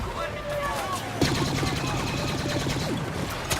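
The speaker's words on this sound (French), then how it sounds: "là il y a une tourelle qui est en train de me tirer dessus" Rapid turret gunfire in the video game Star Wars Battlefront, dense bursts that grow louder after the first second and keep going under faint game noise and a speaking voice.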